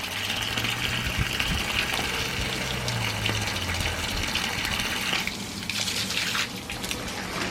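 Water pours steadily from a hose or can onto potted plants and hanging greenery at night, a close, continuous gushing stream with a brief shift in the flow near the end.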